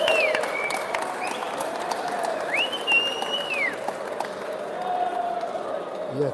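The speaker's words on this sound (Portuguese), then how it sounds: "a torcida aplaude aqui o Igor Figueiredo" A crowd applauds at a six-red snooker final in Aracaju, Brazil. The clapping is steady and moderately loud, with a few whistles rising above the crowd noise.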